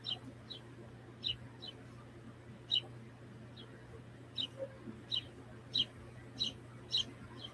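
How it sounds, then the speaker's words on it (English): Small birds singing outdoors, repeated short high chirps in an irregular series, moderately distant over a steady low hum indoors. "You hear the birds outside?"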